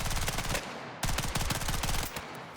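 A rapid-fire machine gun with a 1080 rate of fire in the video game Battlefield 6 rattles out dense, loud automatic bursts, broken by a brief pause and then resuming without a break.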